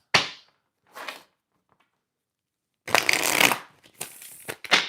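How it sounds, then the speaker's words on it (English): Tarot cards being shuffled close up, with a couple of brief riffles, then a longer dense burst of flicking and further short shuffles, with no talking. "Just want to shuffle the cards."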